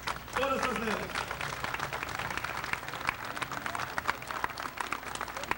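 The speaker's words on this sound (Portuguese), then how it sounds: "uma salva de palmas a esses cavaleiros que cruzaram todas essas léguas" A crowd applauds horse riders at a Farroupilha cavalcade, scattered clapping spread through the whole stretch, with a voice speaking over the start.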